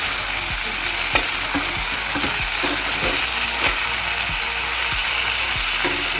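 Tomato, chilli and ginger paste sizzles and fries steadily in a pan, with repeated scraping stirs of a spatula ticking through the constant hiss, close and alone.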